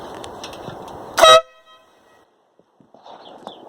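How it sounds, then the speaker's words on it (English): One short, loud blast from a Denali SoundBomb dual-tone air horn fitted to a Yamaha Fazer motorcycle. It sounds close and harsh, then cuts to near silence with faint background noise afterward. "It's a nice dual tone horn there."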